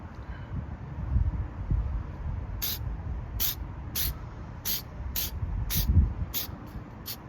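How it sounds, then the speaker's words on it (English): Meguiar's headlight restoration coat sprayed onto a BMW headlight in eight short, sharp hissing bursts at a steady rhythm, close to the microphone, over a low rumbling background. "Just go ahead and spray it."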